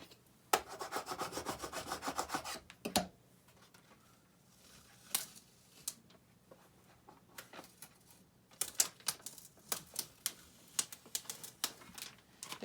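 Adhesive vinyl being peeled off a Cricut Joy cutting mat and pressed down by hand, giving close, irregular bursts of crackly tearing and rubbing separated by quiet gaps.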